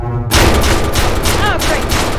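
A ceiling turret fires in a video game, a loud continuous barrage of automatic gunfire kicking in abruptly after a brief tone, with a voice speaking faintly underneath.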